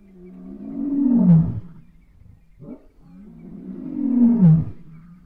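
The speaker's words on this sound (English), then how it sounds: "Number 86 was a lion roar." A lion roars twice, each call a deep, loud, swelling roar, with a short lower grunt between them. The animal sounds close and there are no voices.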